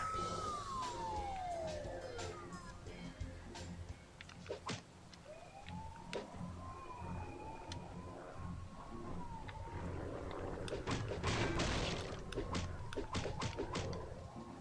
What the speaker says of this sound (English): Siren's driving me crazy.